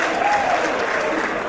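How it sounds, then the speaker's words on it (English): Wrestling match crowd clapping and cheering in a steady, dense wash of applause filling the arena, loud throughout. "Crowd trying to will Galloway back into this match"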